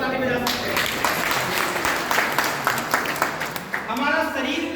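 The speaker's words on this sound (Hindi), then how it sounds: "अपने लिए जोरदार ताली बजा सकते हैं।" Audience applause at a DXN products seminar, a dense burst of clapping from a crowd that swells for a few seconds between stretches of someone speaking into a microphone.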